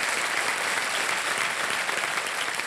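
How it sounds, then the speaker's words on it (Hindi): A studio audience on a quiz game show claps hard and continuously, a thick even roar of hands with no speech on top. "और मैं चाहता हूं कि जोरदार तालियां बज जाए।"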